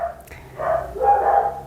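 Dogs bark indoors in a household of five, a couple of close, loud barks and yelps in quick succession, with no talk over them.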